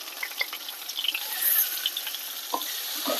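Tomato with black pepper, turmeric and salt sautéing in a pan for chicken chaap, giving a soft, steady sizzle with faint scattered stirring clinks and no talk.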